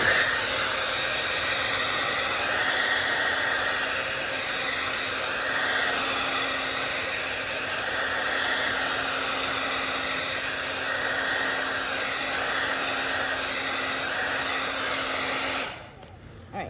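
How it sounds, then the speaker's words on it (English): A hair dryer blows steadily over wet paint at close range, a constant whooshing hiss that runs unbroken for about sixteen seconds before it cuts off abruptly. "I probably am going to blow this dry because I'm working quickly."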